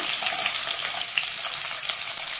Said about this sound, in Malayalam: നന്നായി ചൂടായി ഇതിനകത്തേക്ക് ഇത്തിരി കടുക് ചേർത്ത് കൊടുക്കാം